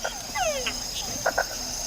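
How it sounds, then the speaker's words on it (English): Red-eyed tree frog in the Panamanian forest gives a few quick, near, clicking 'flip' calls, set among other chirping frogs and a faint insect drone. "That was a red-eyed tree frog, the one that went flip, flip, flip."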